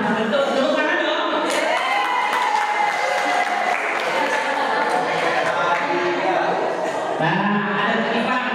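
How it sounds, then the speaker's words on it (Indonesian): Applause fills a gathering of primary-madrasah teachers at a curriculum workshop: dense, steady clapping mixed with crowd murmur and voices, loud and close throughout the whole stretch. "Tepuk tangan dong."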